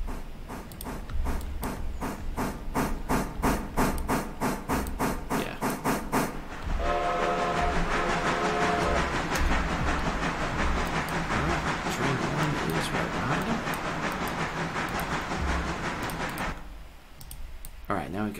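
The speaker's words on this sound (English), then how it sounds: "Alright, we're gonna stop the freight train there." A freight train on a model-like railroad setup rolls along the rails, first with rhythmic clicking wheel beats and then a steady rumbling roar with a brief tonal whine, before it drops off near the end.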